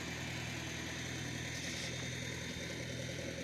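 A 19-horsepower tractor engine runs steadily while cultivating corn, a constant droning mid-pitched rumble with vibration, heard close and alone.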